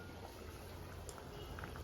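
Mackerel fish curry coming to a boil in a pot on a home kitchen stove, a steady soft bubbling and faint simmering hiss with a few light pops, close and continuous with no talking.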